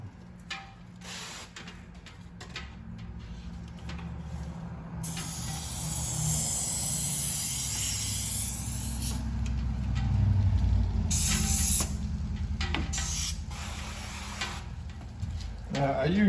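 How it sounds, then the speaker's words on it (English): Water hisses from a spray bottle aimed under the door seal of a Jeep Wrangler while its front door windows are tinted, several bursts over steady background noise and low murmuring. "I spray down below that sucker. That flushes anything out the way."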